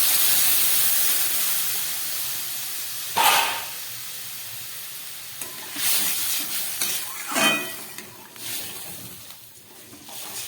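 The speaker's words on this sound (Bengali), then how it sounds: "এবার দিয়ে দিচ্ছি এই সিদ্ধ করে রাখা চিকেনের জলটা।" Boiled chicken stock is poured onto frying vegetables for aata momo, raising a hissing sizzle that swells in several loud bursts of steam and stirring, then settles to a quieter simmer.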